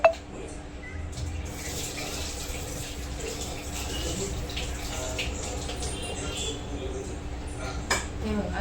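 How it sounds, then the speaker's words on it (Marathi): Dal being rinsed in water in a home kitchen: a soft, continuous sloshing and trickling, fairly faint and close, with a brief clink near the start and another near the end. "डाळ स्वच्छ धुवून घेते पहिले"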